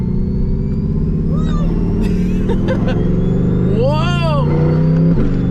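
A Corvette C8 Z06 fitted with a Lingenfelter supercharger revs and passes close by, its engine roar rising with a rising supercharger whine. A loud exclaimed voice cuts in over the engine noise.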